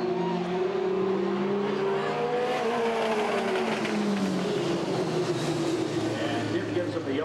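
Race cars at Redwood Acres Raceway in 1989 drive laps to warm their tires, their engines droning and rising in pitch as they pass. A voice talks over the steady engine roar.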